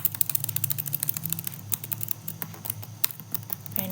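Close, steady typing on a computer keyboard with rapid clicking keystrokes over a low hum, no voices.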